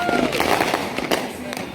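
New Year fireworks crackle and pop in rapid bursts close by, mixed with excited voices of people talking and shouting over them.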